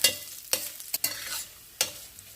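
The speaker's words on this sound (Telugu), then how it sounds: "వెల్లిపాయలు వేసుకోవాలి. ఇవి కూడా కొంచెం వేగాలి బాగా." Chopped garlic fries with browned lentils in a pan for yellow cucumber chutney, giving a soft sizzle broken by several sharp scraping stirs close by.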